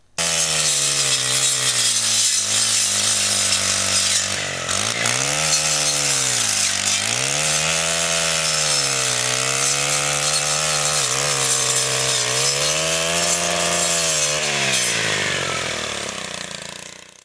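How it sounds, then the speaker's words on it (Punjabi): Handy reaper brush cutter cutting through large overgrown bushes in open wasteland, its small engine droning loud and steady throughout with pitch dipping and rising as the blade bites into growth. "ਹੈਂਡੀ ਰੀਪਰ ਨਾਲ ਉਜਾੜ ਵਿੱਚ ਖੜ੍ਹੇ ਵੱਡੇ ਵੱਡੇ ਝਾੜ ਬੂਝੇ ਵੀ ਆਸਾਨੀ ਨਾਲ ਕੱਟੇ ਜਾ ਸਕਦੇ ਨੇ"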